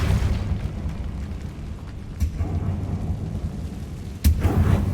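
Confringo blasting curse exploding in the video game Hogwarts Legacy, a low rumbling boom with dense fiery crackle and a sharper burst near the end, loud and continuous.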